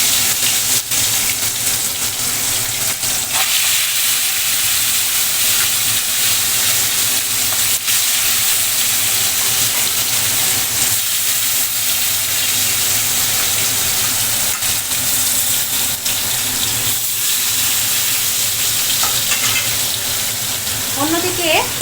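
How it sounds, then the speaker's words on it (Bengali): Fish pieces rubbed with salt and turmeric frying in a wok for a Bengali village fish curry make a loud, continuous sizzle that holds steady throughout without letting up. "এবার আমি কড়াইয়ের মধ্যে নুন হলুদ মাখিয়ে রাখা মাছগুলো দিয়ে দিলাম ভাজার জন্য।"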